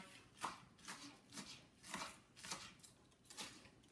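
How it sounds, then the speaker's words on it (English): A knife slices vegetables on a cutting board for Thai curry, six or seven soft, evenly spaced chops in a quiet, close, unhurried rhythm. "Claw grip, cutting in front of the knife"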